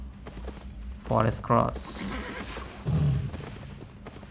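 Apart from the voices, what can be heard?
horse hooves clip-clopping in the video game Albion Online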